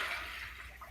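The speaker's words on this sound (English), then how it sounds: "I'm going to carefully pour this back in." Water poured back into a container during a classroom volume-prediction demonstration, a steady close pouring wash that stays even for just under a second, with no talk over it.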